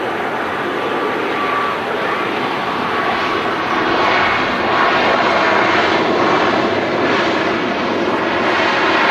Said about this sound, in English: The Dalaman Sun Express is now taxiing, just as Ryanair is in from Eindhoven.